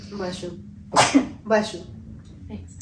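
A single loud, close sneeze bursts out between stretches of conversation, with people talking before and after it.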